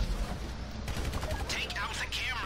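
Rifle gunfire in the GTA Online video game, a rapid burst of sharp shots cracking out in the second half over steady game background noise.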